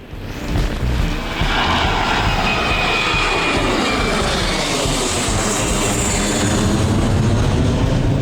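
A loud jet airplane roars overhead at night in Phuket, Thailand, its engine noise swelling and sustaining as it passes close above.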